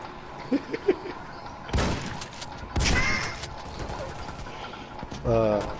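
Semi-automatic rifle fire in the video game Warface comes as a few sharp bursts of shots spread over several seconds, loud and close, alongside sparse game effects and someone talking.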